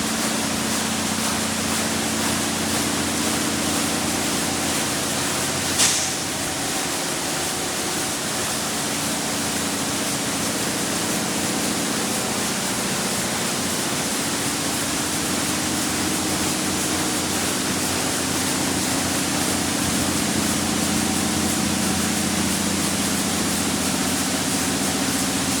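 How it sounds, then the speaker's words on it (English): A high-pressure wand sprays water at a car wash, a loud, continuous broadband hiss over a low pump hum that holds steady for the whole stretch, with one brief knock early on. "Now high pressure wash."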